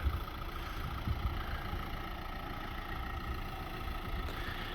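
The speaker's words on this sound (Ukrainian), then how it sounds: "Моторчик працює рівномірно" A Renault car's 1.5-litre engine idles steadily with a low, even rumble and constant vibration, no voices, close and unchanging throughout.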